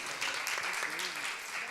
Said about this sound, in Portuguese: Dá uma salva de palmas para este casal precioso.